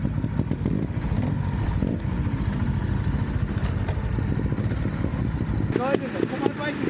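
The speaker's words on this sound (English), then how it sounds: "you gotta start your bike again" A trials motorcycle engine runs at a steady, busy idle with a constant rapid clatter throughout, joined by a brief higher mechanical rattle near the end.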